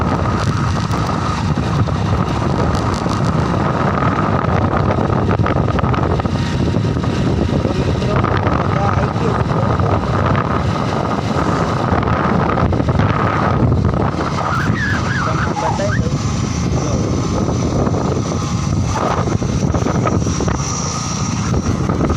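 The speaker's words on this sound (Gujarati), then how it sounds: "તો બાઇક લઈને હવે ઘેર હેડ્યો।" Motorbike ride along a village road, with steady engine drone and heavy wind buffeting on the microphone throughout, loud and continuous with no talk.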